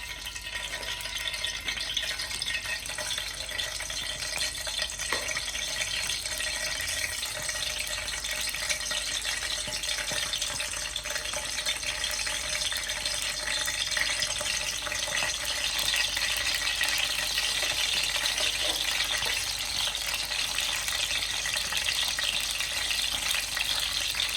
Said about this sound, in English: we're going to do a splash of water